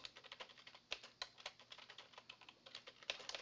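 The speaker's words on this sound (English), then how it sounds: "So I'll type in a summary." Computer keyboard being typed on, rapid irregular clicking keystrokes, quiet and close, alone.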